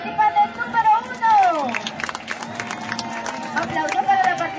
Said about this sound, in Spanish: aplauso para la participante número uno